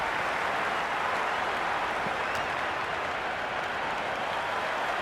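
A stadium crowd applauding in the Cricket 26 video game, heard as a dense steady wash of clapping with no pauses, loud and constant for about five seconds with no voices.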